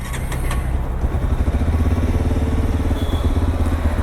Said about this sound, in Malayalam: ഇതിൻ്റെ ഒരു എക്സോസ്റ്റ് നോട്ട് കൂടി കേട്ടിട്ട് പോവാം